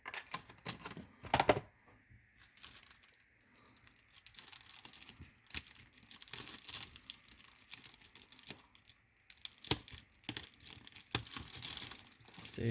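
A blade slicing open the cardboard packaging of a Tomica Nismo pit toy set, giving quiet close crinkles, scratches and sharp tearing bursts separated by pauses.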